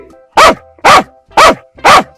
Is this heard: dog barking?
yes